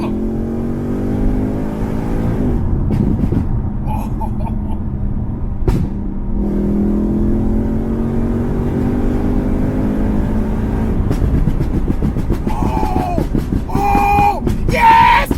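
A Stage 2 tuned BMW M3 with a new exhaust accelerates hard, engine drone climbing steadily through the gears and echoing as if in a tunnel, loud and close with rising whine and crackle near the end.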